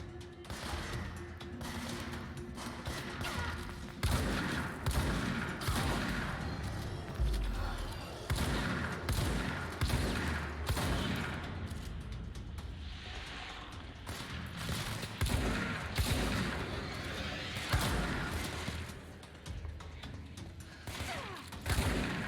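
Shotgun blasts and bursts of gunfire from the action video game Control, a loud series of sharp impacts spread irregularly over a dense, busy game soundscape with no speech.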